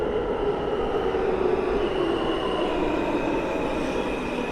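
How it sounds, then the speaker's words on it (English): A Manhattan-bound F train on the New York subway rumbles steadily at a Windsor Terrace station in Brooklyn, a loud continuous roar with a faint high wheel squeal running throughout. "There's a Manhattan-bound F train on the other side."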